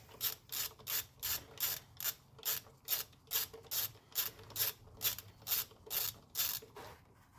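A ratchet wrench loosening small bolts on a Honda Civic engine near the plastic intake manifold, clicking in a steady rapid rhythm of about a dozen even strokes, close and distinct with no talking.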